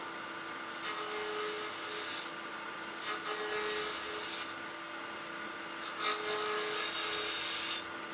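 A 1/2 inch spindle gouge cuts wood on a lathe while turning an ornament, producing a steady, close scraping hiss with light rises and falls as the tool moves, heard alone for about eight seconds.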